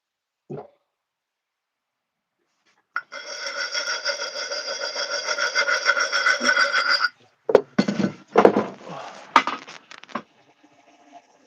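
A wooden axe-handle tongue being trimmed by hand, a steady rasping cut running for about four seconds, then a burst of sharper, uneven knocks and scrapes, close and fairly loud with no talk.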